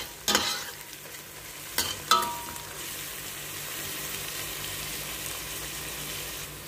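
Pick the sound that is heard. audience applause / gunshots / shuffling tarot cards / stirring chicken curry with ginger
stirring chicken curry with ginger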